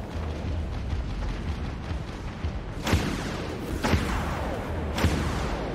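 Vulture missiles explode in the space combat game Dreadnought, three loud booming impacts about a second apart over a dense, rumbling battle background, with no voices.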